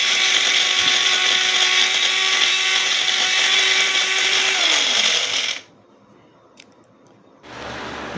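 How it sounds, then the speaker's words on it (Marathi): A mixer grinder coarsely grinds ginger, cumin, salt and coriander with a loud, steady high whine that spins down and stops, followed by a brief quiet and the motor starting up again. "अद्रक, जिरे, मीठ, कोथिंबीर घालून मिक्सरला जाडसर वाटून घेऊ"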